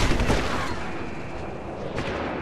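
Sniper rifle fire in the PC game Deus Ex: Human Revolution, during a sneak into the docks: a loud, booming shot opens the clip, its echo tails off, and a second, sharper report follows about two seconds later.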